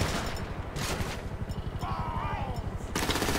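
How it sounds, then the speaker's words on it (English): Weapon fire in the video game GTA 5 Online during a drug war mission: a rapid, rhythmic stream of loud automatic shots with brief sharp bursts, while someone talks over it. "maybe we can railgun these guys"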